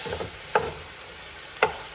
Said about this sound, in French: je vais faire brunir un peu ma viande